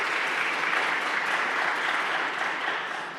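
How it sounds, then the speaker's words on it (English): A room of people at a city council meeting applauds, giving sustained, dense clapping that holds level and tapers slightly at the close, with no talk over it. "Let's give them a round of applause."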